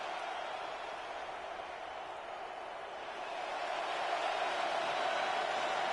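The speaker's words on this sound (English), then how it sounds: "this crowd's going to get even louder" Broad wash of stadium crowd noise in an American football video game, a steady roar that swells louder in the second half, with no distinct voices standing out.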